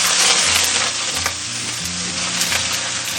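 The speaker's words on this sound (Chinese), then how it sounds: "煎至底部金黄，我们就可以给它翻面了哦" Crucian carp frying in a hot wok with ginger and scallion, a loud dense sizzle of oil crackling continuously and close, with a few faint metallic taps and no talking.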